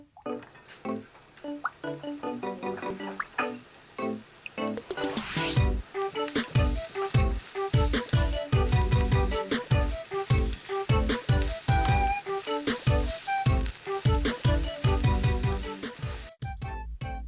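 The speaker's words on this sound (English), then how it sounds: "Now we're gonna go ahead and stir fry our veggies." Carrots stir-frying in avocado or grapeseed oil in a pan over medium-high heat: a loud, steady sizzle broken by rhythmic scraping and tossing strokes, close up, with no voices.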